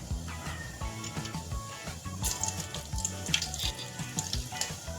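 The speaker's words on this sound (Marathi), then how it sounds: "तेल चांगलं गरम झाल्यानंतर त्याच्यामध्ये आपल्याला घालायचे आहेत जिरे मोहरी घालायचे" Cumin and mustard seeds sputter in hot oil, a quiet steady crackle dotted with small pops, with no voices over it.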